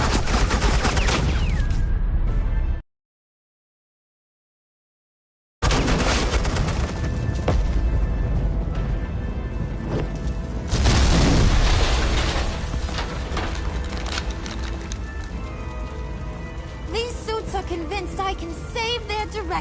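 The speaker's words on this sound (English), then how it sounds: "suppressing fire." Suppressing fire in the Batman The Enemy Within video game: dense, continuous bursts of automatic gunfire with booming impacts, interrupted by a few seconds of total silence before the shooting resumes loud and sustained.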